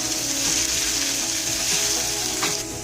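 Chicken frying in a pan with garlic and ginger paste, a loud continuous close sizzle with light stirring scrapes and no talk.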